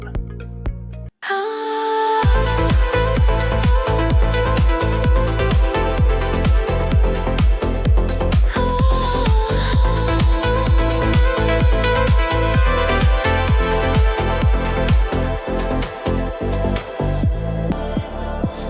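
An AI-generated EDM song made with Suno at around 125 to 130 BPM, loud and continuous, with a steady pounding four-on-the-floor beat and sustained synth chords kicking in after a brief gap near the start.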